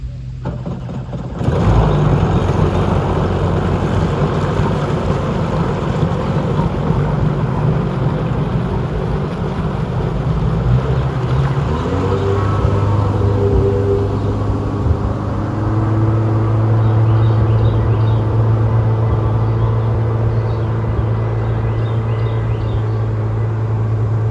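A Sea-Doo jet ski engine rumbles loudly and steadily, then revs up into a higher running drone that continues to the end, close by with wind noise.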